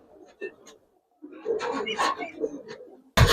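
Giribaz pigeons coo softly in short bursts, close by and fairly quiet, with a sharp knock at the very end.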